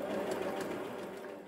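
A sewing machine runs a very small, narrow zigzag stitch in a brief, steady burst of rapid mechanical whirring and needle clatter, close by and alone.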